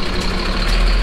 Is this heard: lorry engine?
yes